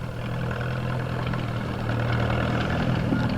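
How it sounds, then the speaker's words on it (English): An antique Farmall tractor's gas engine at an outdoor tractor show runs steadily at idle, a continuous low rumble with a slight rise in level toward the end and no talk over it. "Particularly when those gas engines start revving up."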